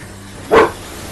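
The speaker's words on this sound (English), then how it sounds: "Stop barking." A single sharp bark from a small female dog, loud and close, standing alone against a quiet room.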